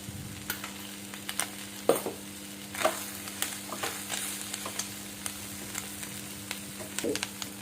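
Prawn roast masala stirred and fried in a pan: a soft, continuous sizzle with intermittent scrapes and light clacks of the spoon, heard up close with no talking.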